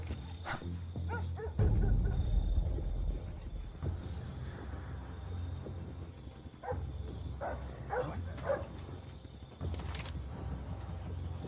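Dogs bark and yip in short bursts over a low rumbling soundtrack in Splinter Cell Blacklist, with a few whimpers scattered through.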